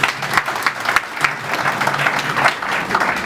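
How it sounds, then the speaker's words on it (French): A wedding audience claps steadily and loudly for several seconds, dense applause with a few sharper claps standing out, filling the room. "on applaudit pour M. Goma."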